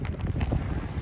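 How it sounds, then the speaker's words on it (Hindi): Cool wind gusting during a rain shower, a steady rushing roar buffeting the microphone close up, loud and unbroken with no voices. "ठंडा ठंडा हवा चल रहा है"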